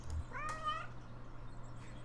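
One curious, drawn-out cat meow rises early on, near and distinct, followed by quiet background hum.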